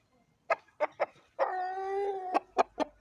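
Chickens and chicks cluck in a run of short, close calls, with one drawn-out, tonal call in the middle and no talk over them.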